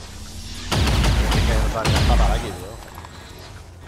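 Bursts of rapid gunfire and booming impacts from the game XCOM 2, loud and close, with a short break between volleys, then quieter background.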